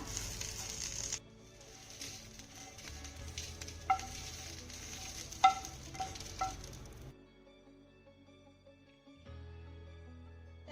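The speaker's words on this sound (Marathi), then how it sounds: "आपल्या ह्या वड्या मस्त अशा खमंग परतून झालेल्या आहेत आपण आता ह्या काढून घेऊया" Moong dal vadis fry in a pan with a soft, continuous sizzle and scattered light clinks as they are lifted out; the hiss stops partway and leaves a quiet, low hum.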